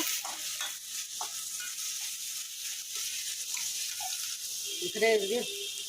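Papaya and carrot fry in a pan for Korean noodles, giving a steady, moderate hiss of frying while a person talks over it.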